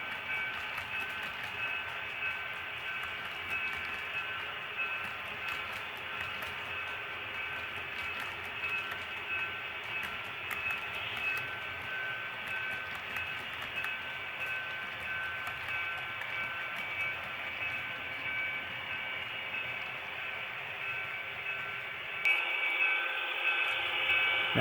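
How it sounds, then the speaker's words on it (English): A continuous rumbling drone with grinding, screeching metal from a freight train rolling steadily through a freight yard, unbroken throughout with a slight change near the end. "Now we see the train coming onto the other side of the freight yard"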